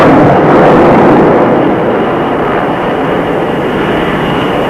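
A loud, steady airplane engine roar near an aircraft carrier, a broad continuous rush that holds for the whole stretch with no pause or voices.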